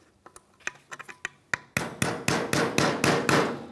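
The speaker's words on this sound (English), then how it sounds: "Just give it a little tap." Hammer taps driving a pin into the interior door handle lever of a 2007-2013 Chevrolet Silverado, a run of light, quick metallic knocks that grow into a steady series of firmer, louder strikes, close up with no talk.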